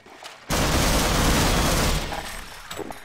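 Magnum revolver fire in Half-Life erupts as a sudden loud burst of gunfire and booming blasts that hold for about a second and a half, then trail off into scattered fainter sounds.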